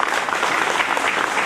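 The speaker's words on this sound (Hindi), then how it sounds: "भाई तालियां आनी चाहिए प्लीज।" An audience at a retirement celebration gives a brief burst of dense, steady applause, with many hands clapping at once and close to the listener.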